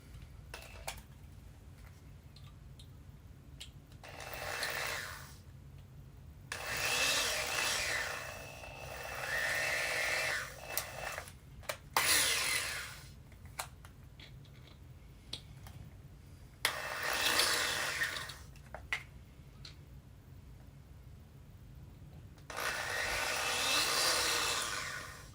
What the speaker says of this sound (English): having to drill out every single hole